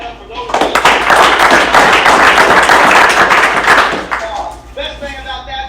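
Meeting crowd at a junk-removal franchise office clapping for the team, a burst of dense applause that builds quickly, holds for about three seconds, then tapers off into quieter scattered claps.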